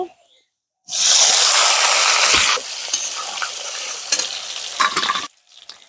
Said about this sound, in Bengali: এবার যে মাছের ঝোল করব সেই আলুগুলো ভেজে নেব